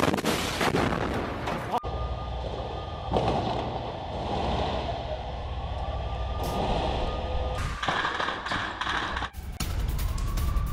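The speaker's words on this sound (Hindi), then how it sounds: "सैन्य वाहनों को कैसे धमाके के जरिए उड़ा दिया गया है ये देखिए।" Explosions blow up military vehicles in Gaza: a series of loud, sharp blasts burst out at irregular intervals over a rumbling, noisy background, with no speech.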